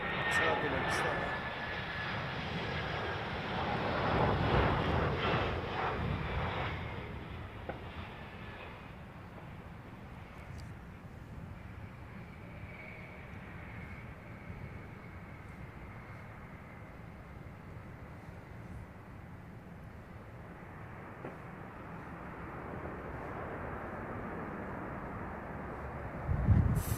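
Boeing 787 airliner passing at London Heathrow Airport, a distant rumbling roar that swells then fades into a lingering low rush, with people talking.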